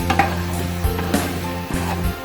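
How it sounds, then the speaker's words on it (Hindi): Okra halwa sizzles steadily in ghee in a pan while a spoon scrapes and stirs it in a few irregular strokes, close and fairly loud with no voices. "इसे हिलाते रहना जब तक इसका घी अलग ना हो जाए।"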